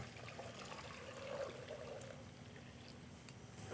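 Dashi broth poured back into a cooking pot: a soft, steady trickling pour that runs continuously under faint room noise, quiet and close.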